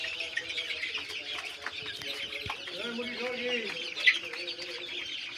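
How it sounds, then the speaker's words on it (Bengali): Chickens on a poultry farm, heard as soft, distant clucks and chirps scattered among faint background noise, with a single slightly louder call near the end. "এখানে যে মুরগিগুলো রয়েছে দেখতে পাচ্ছেন"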